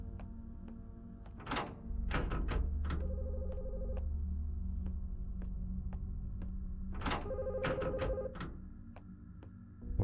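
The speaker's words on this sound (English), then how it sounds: "Alright, the phone is ringing." A telephone rings in the horror video game The Skin Stapler, with two bursts of ringing separated by a steady low hum and faint repeated ticks in a quiet room.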